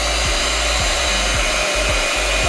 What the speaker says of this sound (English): put the hair dryer between the rolls of paper towels